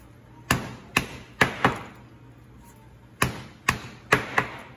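Knife blade chopping through the tough, hard flesh of a yellow hake (pescada amarela) on a cutting board: eight sharp, loud impacts in two clusters of four, each a crisp thwack with a short decay, no talking.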